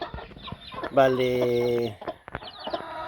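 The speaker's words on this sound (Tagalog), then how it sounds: "akong isang native chicken na naglilimlim na siya" A native hen brooding on eggs gives a loud, close, drawn-out cluck with a harmonic, crow-like tone, set between softer clucks and someone speaking nearby.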